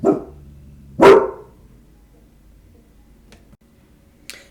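A dog barks sharply twice near the start, loud and close, then the room falls mostly quiet with faint ticking and a soft distant sound near the end.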